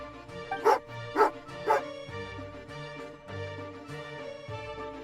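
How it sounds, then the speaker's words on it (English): An angry dog in the Genshin Impact video game barks three times in quick succession, sharp and close, over a bed of soft game background music. "Oh, angry doggy."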